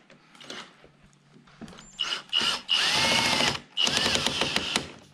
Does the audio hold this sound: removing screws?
yes